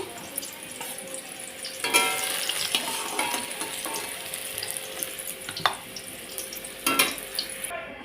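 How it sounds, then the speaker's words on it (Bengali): Potato pieces fry in hot oil in a pan, a steady close sizzle broken by occasional stirring scrapes and clinks of the utensil, with no one speaking. "আলুর টুকরোগুলো ভেজে নেব"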